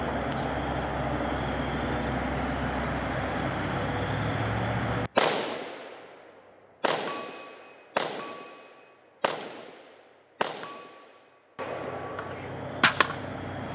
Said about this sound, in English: I'm gonna hit these MGM targets a little bit more, but dang, they sure do make a nice pop